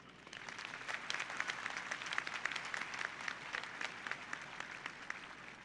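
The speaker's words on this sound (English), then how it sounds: "Let's give a big round of applause for our Board of Trustees" Applause for the Board of Trustees at the Carl Wunsche Sr. High School 2021 graduation, a sustained, fairly distant crowd clapping with sharper individual claps rising above the wash.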